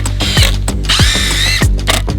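A power drill screwing shaved log posts into post bases, heard as loud close bursts of whining motor with ratcheting clatter and pitch dropping as each screw bites, three pulses in quick succession.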